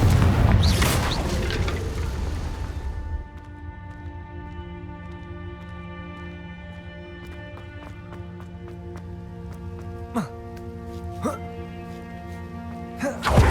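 A Confringo spell explosion in the video game Hogwarts Legacy bursts loud and close for about three seconds. It gives way to sustained tonal game music dotted with a few faint clicks and thumps.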